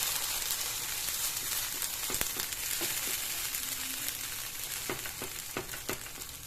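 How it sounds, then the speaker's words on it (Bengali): Spice paste frying in a pan while being stirred, with a constant close sizzle and scattered scraping clicks of the spoon against the pan. "এবার খুব ভালোভাবে এটাকে নাড়িয়ে নিচ্ছি।"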